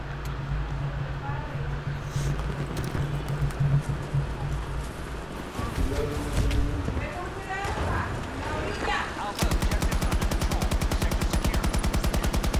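Gunfire in the Battlefield 2042 beta shooter: scattered shots under rain-like ambience give way to a loud, rapid burst of automatic fire that runs to the end.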